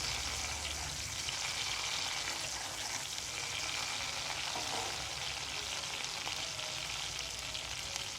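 Garlic fries in hot oil in a home kitchen, giving a steady, close, even sizzle and crackle throughout with no talk.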